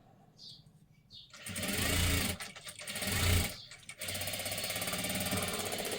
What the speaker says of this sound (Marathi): आता इथे एकदम कडेकडेला शिलाई देऊन घ्यायची